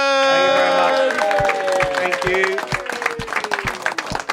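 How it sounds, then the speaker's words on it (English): A brief spoken thanks over a musical sting, followed by scattered clapping and light applause as the music fades. "Big round of applause"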